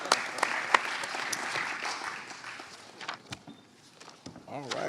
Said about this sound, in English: let's just give Commissioner Ramsey a round of applause